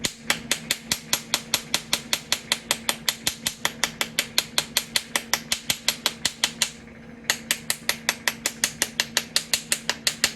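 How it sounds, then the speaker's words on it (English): Steady, rapid taps of a spoon on the top plunger of a unicorn-head 3D bath bomb mold, a long even series of sharp clicks with one short pause, close and alone. "now we're going to give some taps on the top plunger"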